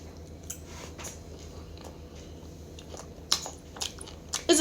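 Close chewing of a piece of trunk steak, tough with connective tissue and collagen: soft steady mastication with a few sharper wet bites and crunchy squishes toward the end, no talking.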